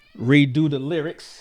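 A close cat meows with rising and falling pitch, overlapping with someone speaking, followed by a brief breathy hiss.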